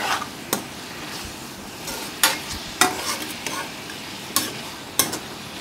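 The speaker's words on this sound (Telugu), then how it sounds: "ఇప్పుడు ఈ మొత్తం ఈ విధంగా కలిపేసుకొని మూత పెట్టేసి" Broad bean and tomato curry stirred in a pan, a spatula knocking and scraping in sharp, spaced strikes over a low background sizzle, close and fairly loud, with no talking.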